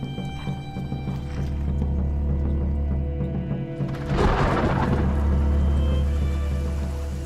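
Steady rain falls around a deserted courtyard gate on a dreary day, a constant hiss with a heavier surge of downpour midway, continuous and fairly loud.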